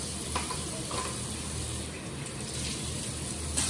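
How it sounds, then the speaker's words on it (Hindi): Water runs steadily from a household tap as a continuous hissing broadband stream, fairly close and unbroken, with a few small clinks and splashes of a sink on top. "धीरे चलाओ, कम कम कम चलाओ नल। नल धीरे धीरे चलाओ।"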